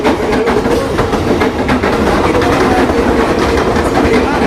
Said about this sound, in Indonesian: Kalau kereta lewat agak kenceng.